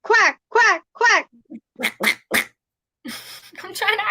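A person imitates a duck with three rapid nasal quacks, then several shorter quack sounds, followed by laughter and chatter from nearby people.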